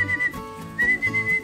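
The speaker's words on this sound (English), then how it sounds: "They all came running when I whistled" A person whistles to call a litter of puppies, repeated bright whistle tones over a soft rumble of background noise, fairly close and without talk.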